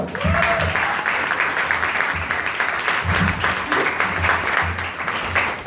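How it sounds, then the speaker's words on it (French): An audience at a startup weekend pitch session in Paris applauds a speaker with continuous, full clapping that holds at an even level throughout, with faint voices under it. "On applaudit Zina"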